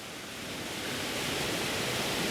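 Steady broadband roar of a camping stove flame burning under a lidded pot of water, constant and close, with no talking.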